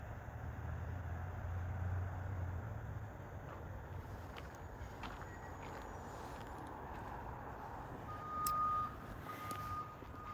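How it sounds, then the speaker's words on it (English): A bus sounds its reversing beeps while turning around on a dead-end road, faint, steady repeated tones behind wind noise and a low engine rumble outdoors. "Excuse the beeping behind me."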